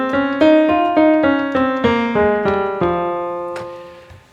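Natural minor scale played one note at a time on a single melodic instrument, about eight clear sustained tones stepping steadily downward, moderately loud and close, with no talking.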